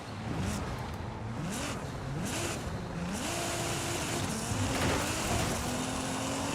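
In Forza Horizon 5, a Nissan Sentra fitted with a 3.8-litre twin-turbo V6 from a GT-R, drag-tuned to 1,000 hp, revs hard through several rising pulls and gear shifts, loud and close.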